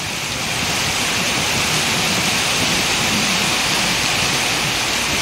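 Heavy rain pours down steadily and loudly, a dense continuous roar with no letup, heard from a bus travelling toward Bogor.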